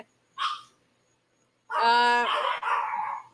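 Small Yorkie dogs bark at a new neighborhood: one short yip, a pause, then a longer run of high, harmonic barking and yelping, fairly close and loud.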